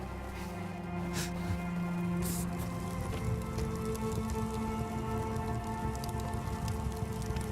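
Hail patters steadily in The Fidelio Incident, a dense continuous rattle over a low droning hum, with no voices.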